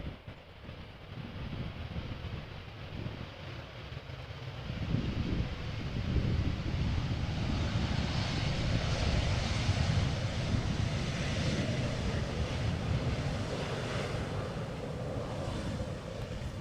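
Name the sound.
Embraer 190 airliner arriving at Amsterdam Schiphol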